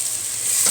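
Onion sautéing in a pan for a green bean and meat stew, a steady close sizzle with soft stirring that swells slightly toward the end of a very short moment.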